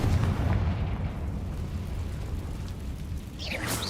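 Booming blast of a Confringo spell in the Hogwarts Legacy video game, a heavy low rumble at the start that slowly fades. A brighter burst rises near the end.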